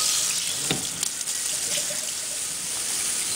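Tap water runs steadily into a sink while a telescope mirror is rinsed, a constant hissing splash with a couple of brief clunks of the mirror being handled.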